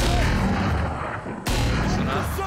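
Loud bursts of video game gunfire crack over a constant din, with one sharp shot standing out halfway through.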